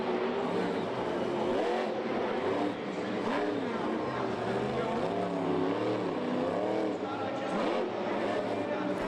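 Hot Wheels Firestorm monster truck engine roaring at a Monster Jam show in a Baltimore stadium, a loud continuous drone with rising and falling pitch sweeps throughout, over crowd noise and commentary.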